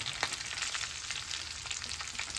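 Carrots, potatoes, onions and green chillies frying in a pan for pasta, giving a steady soft sizzle with light crackles throughout, fairly faint and with no talking.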